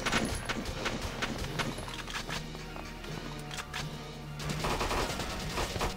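Rapid gunfire crackles in the Valkyria Chronicles video game, a dense run of sharp shots amid battle noise and heavy game background throughout, with no talk.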